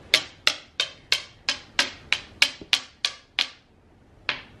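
A toddler pounding on a hard surface: about a dozen sharp, bright knocks in a fairly steady rhythm, close and fairly faint, stopping briefly before one last knock.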